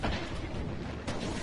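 Gunfire and explosive blasts from the Destiny Crucible multiplayer video game roar continuously and loudly, dense booming shots with a sharp burst near the end, with no talk over it.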